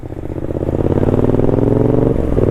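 A motorcycle engine revs hard up close as the throttle is opened, a loud, steady buzzing drone that climbs slightly in pitch and holds, with no voices over it.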